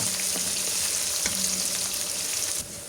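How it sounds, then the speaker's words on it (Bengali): Chopped onion with garam masala and nigella seeds fries in a pan for a chicken curry, giving a loud, continuous hiss and crackle up close that drops off abruptly near the end; no speech. "পেঁয়াজ কুচি হাফ সেটাকে এখন আমি সুন্দর করে একটু ভেজে নেব"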